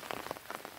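In a vegetable garden, a brief spell of steady rain gives close pattering drops with small irregular splashes and no voices.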